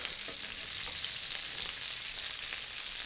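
Butter foams and sizzles steadily in a hot pan as it is spooned over sweetbreads with garlic and bay leaf, a close, continuous crackling hiss with no one talking.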